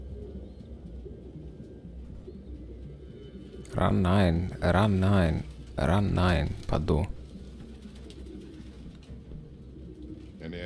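Pigeons in the video game Detroit: Become Human, a low, steady cooing and murmuring bed throughout, heard faint to moderate beneath a voice that speaks briefly in the middle.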